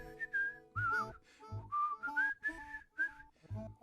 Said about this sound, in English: So I started whistling.